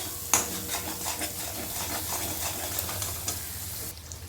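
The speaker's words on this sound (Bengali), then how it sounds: "এবার মশলাটা প্রথমে একটু কষে নেব" Spice paste sautéing in a pan for a vegetarian vegetable curry. A continuous close sizzle is broken by repeated soft stirring scrapes, with a sharper knock near the start.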